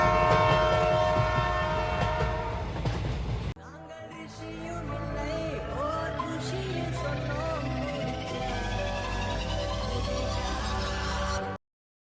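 A train sound effect for a Malayalam comedy sketch: a loud, steady horn blast gives way to a continuous rumble of rolling rail carriages with rising whistle-like tones, filling the clip until it cuts off.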